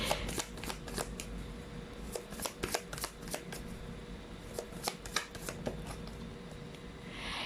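Tarot cards being shuffled and drawn by hand, a run of crisp riffling and flicking bursts with soft slaps at an uneven pace, close and fairly quiet, with no talking.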